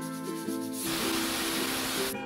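A pressure cooker holding radish curry lets out its whistle, a burst of loud steady hissing steam lasting over a second, with faint tonal music fading in and out before and after.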